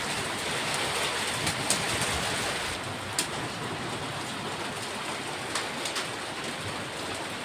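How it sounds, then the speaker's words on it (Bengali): Hailstones and rain pour down together in a hailstorm, a dense, even roar of falling water broken by a few sharp hard taps from stones striking surfaces nearby. "এখন শিলাবৃষ্টিটা একটু কম হলো, বৃষ্টিও কম হলো, আর তার সঙ্গে এই যে শিল পড়ছে"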